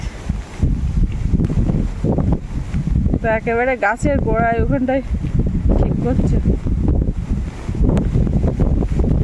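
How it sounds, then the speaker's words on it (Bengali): Gusty storm wind from Cyclone Remal roars across the Sundarbans near boats and trees, a loud rushing buffet on the microphone that continues under people talking. "ঝোড়ো হাওয়া শুরু হয়ে গেছে"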